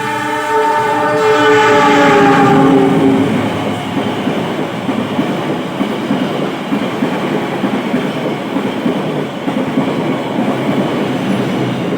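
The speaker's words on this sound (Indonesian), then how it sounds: "Nah, itu S35 dari KA Argo Wilis sudah terdengar." A loud train horn blares at the start, then the Argo Wilis express train rushes past in Indonesia with steady rumbling and clattering wheels.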